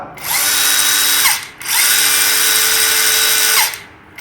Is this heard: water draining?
no